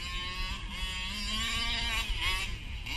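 A Baja buggy engine at full throttle holds a steady, loud, high-pitched buzzing drone close by, with slight pitch wavering as it runs flat out.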